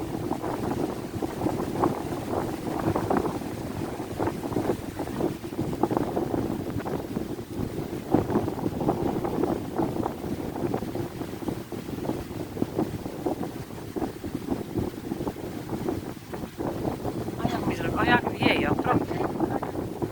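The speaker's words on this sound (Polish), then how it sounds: "tak wieje strasznie, że aż coś okropnego" Strong wind gusts outdoors beside a lake, buffeting the microphone with a continuous low roar and rumble that rises and falls for the full stretch.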